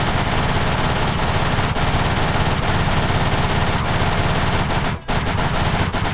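Sustained full-auto rifle fire in the Kingsmouth Island zombie video game, loud and continuous rapid shots with one brief pause near the end, with no talking.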